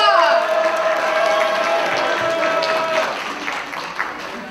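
Audience applause and cheering for a contestant at a cosplay competition at the DeTo 2017 convention, a steady, full wash of clapping with crowd noise that tapers slightly toward the end, a sustained tone running beneath at the start.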